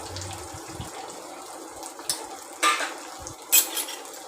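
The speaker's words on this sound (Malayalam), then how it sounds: "നല്ലപോലെ വഴറ്റി കൊടുക്കും." Curry leaves, chopped ginger and shallots are sautéed in a pan for a sardine curry, with a soft background sizzle broken by a few sharp scrapes and clinks of a utensil stirring against the pan.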